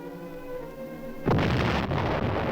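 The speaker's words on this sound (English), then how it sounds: "Ships of the UN fleet fire point blank at the island." Naval guns of a fleet firing point blank at an island: a low rumbling drone gives way to a heavy, sustained explosive roar of bombardment, loud and dense with no voices.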